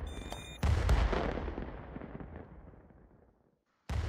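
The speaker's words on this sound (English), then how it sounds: "I can hear explosions in the distance. Can you hear it? I've been blown up like 70 times." A burst of explosion blasts in the golf video game Golf With Your Friends, a loud boom decaying over about three seconds, followed by another abrupt blast at the end.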